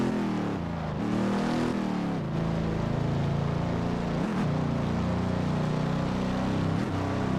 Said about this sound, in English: Yeah, I love the sound of a Coyote